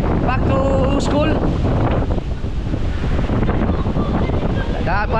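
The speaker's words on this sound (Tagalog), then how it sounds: "Para tayo tinutulak ng hangin." Strong wind roars continuously outdoors, buffeting the microphone loudly throughout, with voices talking faintly underneath.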